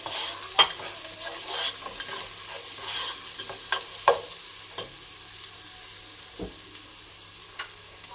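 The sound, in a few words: stir-frying chopped garlic and onion for fried rice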